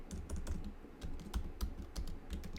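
Quick, uneven clatter of keys on a computer keyboard, close and fairly quiet, with short bursts and brief pauses between strokes.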